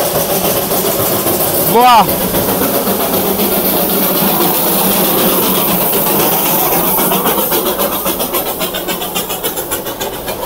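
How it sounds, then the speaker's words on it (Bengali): The Darjeeling toy train runs at Batasia Loop with a loud, steady engine rumble and a short whistle blast near the start. It keeps droning close by while a person briefly exclaims. "আর দেখুন ওই ট্রেনটা কিন্তু এখান থেকে আসছে।"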